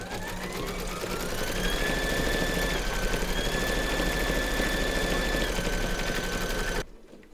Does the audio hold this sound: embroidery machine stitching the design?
yes